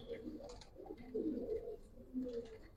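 A Giribaz pigeon coos softly in a loft, three or four low throaty rolling phrases in a loose rhythm, fairly close but quiet, with a faint murmur of background voices.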